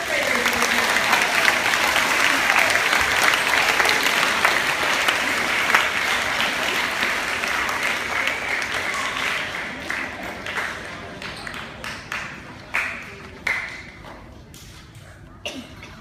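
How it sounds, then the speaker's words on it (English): The audience at a school math and science award ceremony gives 4th graders a long round of applause. Dense clapping holds for several seconds, then tapers into sparse, isolated claps, with some voices underneath. "Please give our 4th graders a round of applause."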